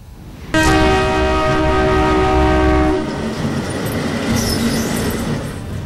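A Shatabdi Express train running at full speed with a cracked coach wheel sounds a long, loud horn blast for a few seconds, followed by the steady rush and rumble of the passing train.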